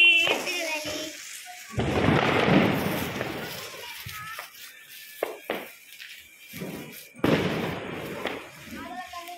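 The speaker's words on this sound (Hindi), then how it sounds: "बच्चे पूरा मजा ले रहे हैं पटाखे का।" Diwali firecrackers bursting in a city street, a loud crackling burst followed by scattered sharp pops and thuds, with children's voices and chatter mixed in.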